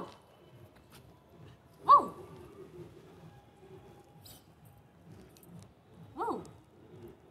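A mischievous puppy gives two short, sharp yelping barks with whimpery tails, the first near two seconds and the second around six seconds, close by over a quiet room background.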